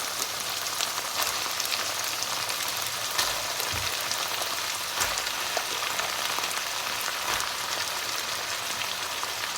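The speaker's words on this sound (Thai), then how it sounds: "เราใส่มะเขือลงไปแล้วก็ผัดมะเขือให้สุก" Eggplant stir-fried with minced beef in a pan, giving a steady, close hissing sizzle with faint scraping from stirring throughout.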